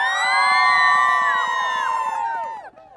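A crowd at an outdoor hot air balloon festival cheers and whoops loudly to vote for a costume contest entry, a sustained roar of many voices with shrill tonal yells that fades over about three seconds.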